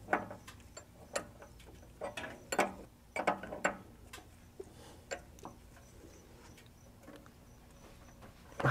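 A wrench snugs down a nut on a VW fuel pressure regulator, giving scattered metallic clicks and ratcheting taps at an uneven pace, close by and fairly quiet, with brief pauses between strokes.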